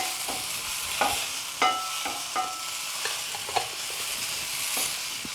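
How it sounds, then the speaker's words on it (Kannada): Onion sautéing with ginger garlic paste in a pan: steady close sizzle of frying with repeated scraping stirs of a spatula, no voices. "ಈರುಳ್ಳಿ ಹಾಕಿ ಸಾಟ್ ಮಾಡಿಕೊಂಡು ಆಮೇಲೆ ಅದಕ್ಕೆ ಶುಂಠಿ ಬೆಳ್ಳುಳ್ಳಿ ಪೇಸ್ಟ್ ಹಾಕಿದ್ದೀನಿ"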